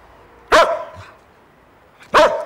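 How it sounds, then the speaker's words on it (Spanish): A dog barks sharply twice, loud and close, with a pause of over a second between the two barks and a faint low noise between them. "¡Aquí está el perro!"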